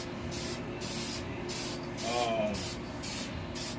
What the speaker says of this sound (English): spraying it with this coating, helps it last even a bit longer